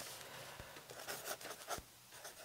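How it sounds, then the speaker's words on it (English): A pen scratches out a name in a journal by hand, soft close strokes with small taps and scrapes at an uneven rhythm, quiet and with no talk. "Now I want to write Joanne"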